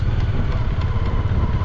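A motorcycle engine pulls slowly in first gear on the Leh–Manali highway in Ladakh, a close, steady low throb with light mechanical clatter over the short stretch.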